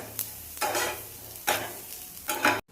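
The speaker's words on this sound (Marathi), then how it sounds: "त्यानंतर आपण कांदा लालसर असा भाजून घेणार आहोत" Onion being roasted and stirred in a pan for Maharashtrian chicken rassa, with three scraping, sizzling bursts of stirring over a low background, close and moderately loud.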